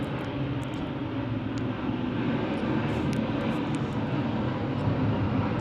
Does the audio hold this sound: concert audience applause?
no